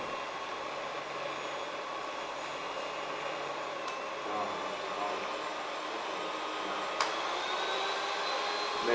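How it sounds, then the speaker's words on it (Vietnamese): Electric mixer whipping chilled fresh cream for a Charlotte cake, a steady whirring drone that holds evenly throughout, moderately close, with no talk over it. "Sau đó ta đánh tốc độ chậm và tăng dần lên để kem tạo độ bông."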